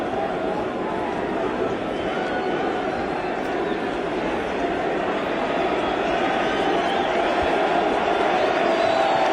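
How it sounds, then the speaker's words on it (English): Baseball crowd at a 2006 ALCS playoff game stays on its feet cheering loudly and continuously, a dense, steady roar with no break throughout. "Crowd still standing, cheering, willing Rogers to end the 6th."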